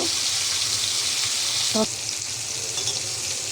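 Fennel and mustard seeds frying in hot oil, a loud, steady sizzle and crackle close by, broken once by a brief metallic clink partway through.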